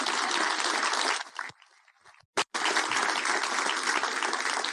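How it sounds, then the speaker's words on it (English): Audience applause at an economy and climate change event with Prime Minister Justin Trudeau, loud sustained clapping that drops off briefly mid-way, then swells back up strongly. "there's an applause there"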